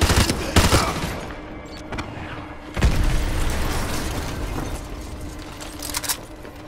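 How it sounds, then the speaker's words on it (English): Explosions and gunfire in the Call of Duty Modern Warfare 2 campaign, a dense battle din with bursts of rifle fire and a heavy blast near three seconds, loud and continuous throughout. "Those explosions are going to attract a lot of attention."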